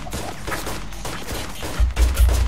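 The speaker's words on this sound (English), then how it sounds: "gunshots is loud as hell" Gunfire in a Roblox hood video game crackles in a quick, moderately loud burst of several shots, with a heavier thump near the end.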